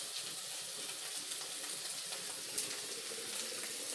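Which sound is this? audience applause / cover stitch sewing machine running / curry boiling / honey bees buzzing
curry boiling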